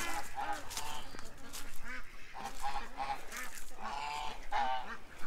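Ducks on a farm pond with bulrushes, honking and quacking in repeated nasal calls at close range, several birds overlapping in uneven bursts.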